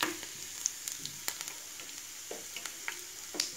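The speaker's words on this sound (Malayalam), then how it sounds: "വെളുത്തുള്ളി ഒന്ന് ചെറുതായിട്ടൊന്ന് മൂത്ത് ഇറങ്ങും" Garlic frying in hot oil for a pickle, a soft continuous sizzle with scattered pops and spatula taps, faint and close, no voices.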